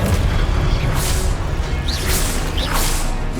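Fiery Confringo spell blasts from a Hogwarts Legacy wizard duel, a steady dense roar of low booms with brief whooshing streaks cutting through.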